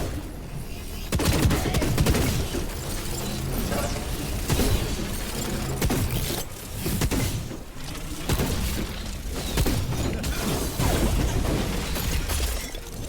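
Video game gunfire rattles in dense, rapid bursts with heavy booms and crashing impacts, loud and continuous through a long stretch with no talk.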